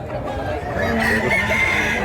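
A rooster at a Mantalungon, Cebu chicken yard lets out a loud nearby crow that rises midway and holds, with clucking fowl behind.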